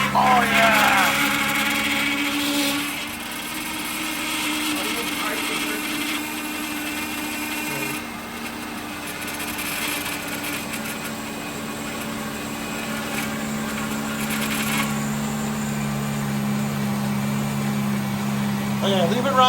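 A 2007 Pontiac engine idles while the power steering is bled, a steady droning hum with a whining tone running throughout at close range, voices talking over it.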